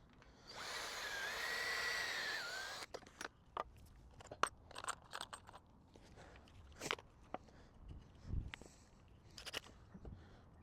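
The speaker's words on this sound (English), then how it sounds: "drill a nice pre-drilled hole through the centre" A power drill bores a pilot hole through the centre of a wooden piece for a DIY gear stand, one steady whining burst of about three seconds, followed by scattered clicks, taps and handling of wood and tools.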